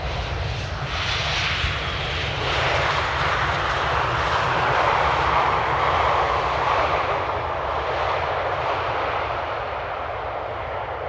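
A Lufthansa airliner arriving at Amsterdam Airport in the early morning: a loud, steady jet-engine roar that fills the whole stretch, swelling slightly in the middle and easing toward the end, with no voices.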